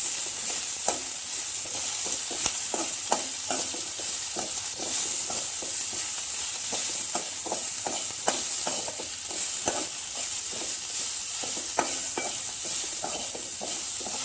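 Herb leaves sauté in a pan for a Tamil thalai rasam, giving a steady close sizzle with repeated scraping stirs of a spoon at an irregular rhythm and no talking.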